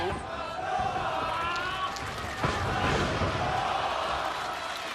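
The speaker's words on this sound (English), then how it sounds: "This is the crowd behind Noam Dar" Wrestling arena crowd in Glasgow's Hydro at a match featuring Noam Dar, a steady broad roar of cheering and chanting filling the whole clip, with a brief louder swell midway.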